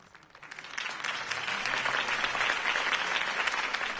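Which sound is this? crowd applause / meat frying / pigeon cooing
crowd applause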